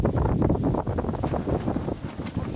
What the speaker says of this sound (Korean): 바람 왜 이렇게 많이 부는 거야?